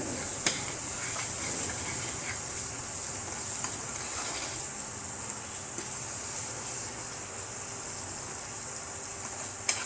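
Whole spices and Kashmiri red chilli roast in hot oil for a tadka in a Punjabi chana dal recipe. They give a steady, soft sizzle and hiss throughout, with a couple of faint clinks of stirring.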